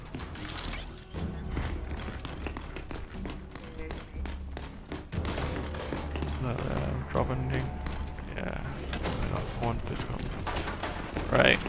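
Rapid bursts of Lancer assault rifle fire in the co-op shooter Gears 5, sharp cracks and thumps scattered across a busy game mix, with voices talking over the action.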